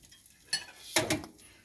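Sausages being turned over in a hot GraniteStone pan make a few short scraping, sizzling clatters, close and fairly loud against a quiet background.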